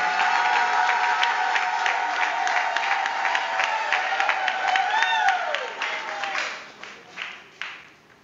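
An audience claps steadily at a Congolese book launch, a dense wash of applause beneath a sustained melodic voice or tone, then thins and tapers off into scattered claps near the end.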